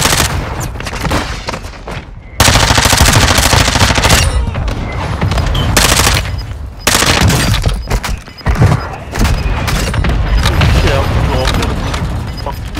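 Gunfire in the video game Call of Duty: Modern Warfare II, loud and sustained, with rapid automatic bursts and heavy booms packed together across the whole stretch, without pause.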